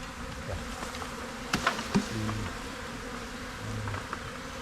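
Honeybees swarming around a hive cut out of a chimney, a steady close buzzing drone of many insects with a few sharp knocks and clicks of handling mixed in, no voices heard.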